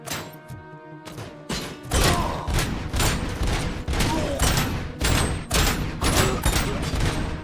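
A run of explosions in the game RoboCop: Rogue City, played on PS5. It sounds like a rapid string of loud, punchy blasts and impacts, one after another, following a brief quieter stretch at the start.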